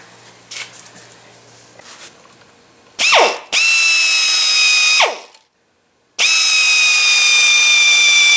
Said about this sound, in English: Drill a pilot hole in each rivet.